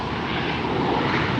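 A KLM Boeing 777-300ER in Orange Pride livery, flight 604 bound for Amsterdam, takes off at LAX with a steady, loud, broadband engine roar that fills the whole moment without a break.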